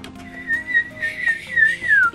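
Someone whistles a short, wavering tune up close, the notes sliding and warbling with small breathy gaps between phrases.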